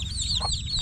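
Chicks on a farm peep close by in a quick stream of high, overlapping chirps, with a low rumble of background noise underneath.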